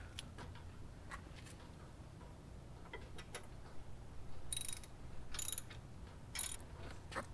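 Ratchet with a 19mm socket tightening a bolt on a bike rack bracket, quiet close irregular clicking bursts of the pawl, some quick runs of clicks and a few sharper metallic taps.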